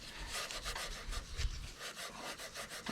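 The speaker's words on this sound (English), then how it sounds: "take some time here and get this rust cleaned off" Rhythmic back-and-forth scrubbing of rust off a log splitter coupling, a dozen or so quick abrasive strokes at a steady pace, close and fairly quiet with no talk.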